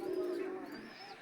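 A female Damascene pigeon gives one short, soft, low coo close by, quiet and alone.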